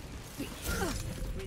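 Weapon reload in the tactical shooter Valorant: a short mechanical clack-and-slide sequence of metallic clicks over steady game ambience, close and moderately loud, with a brief rising whir in the middle.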